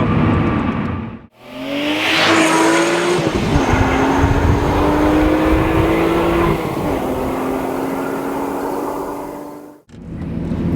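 A 2004 Lamborghini Murcielago V12 accelerating hard, its engine note rising loud and close, dipping at a gear change, then pulling on strongly before cutting off abruptly.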